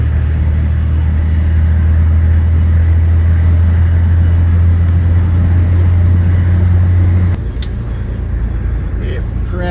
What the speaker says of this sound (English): The truck's running great though.